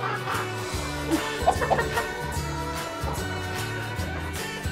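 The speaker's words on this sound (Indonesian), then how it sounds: "Luar biasa sekali ayam kampung semua." Free-range village chickens in a laying flock cluck repeatedly in the middle distance, under a steady bed of background music, with the clucks rising and falling.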